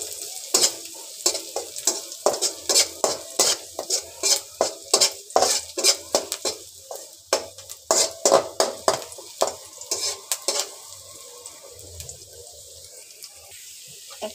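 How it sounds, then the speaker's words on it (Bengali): Chopped green chilies and onions frying in soybean oil while a spatula scrapes and clacks against the pan in quick bursts, loud close strokes over a bed of sizzling that quiets toward the end. "এখন দিব কাঁচামরিচ কুচি, পেঁয়াজ কুচি। একটু লালচে করে ভেজে নিব পেঁয়াজ।"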